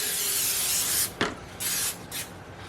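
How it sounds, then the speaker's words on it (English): A long hissing spray burst, then a few shorter spritzes of an aerosol cooking spray can onto a baking pan, close by and fairly quiet. "I give this pan a nice spray so nothing sticks."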